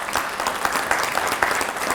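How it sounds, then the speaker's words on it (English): Crowd applause at a mayor's press event announcing a new police chief, brisk, loud clapping from many people close by, with individual claps popping out of the steady patter. "Let's give them a round of applause."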